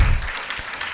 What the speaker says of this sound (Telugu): దానికి మీరు చప్పట్లు గట్టి కొట్టాలి